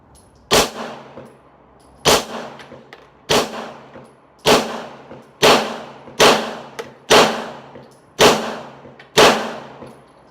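Nine loud pistol shots from a Beretta 92FS at an outdoor range, fired one at a time at a fairly even pace, each a sharp crack followed by a short ringing decay.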